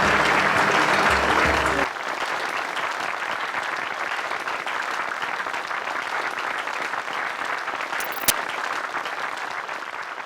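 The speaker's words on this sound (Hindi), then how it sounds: "जोरदार तालियां प्लीज" Audience applause for Emraan Hashmi and Prachi Desai at a televised stage event, starting with a louder, denser burst, then settling into steady, sustained clapping from a large crowd until the end.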